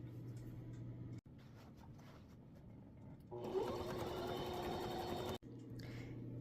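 A sewing machine runs steadily and close as it top-stitches around a pant hem just above the seam, speeding up briefly in the middle before settling back to its even hum.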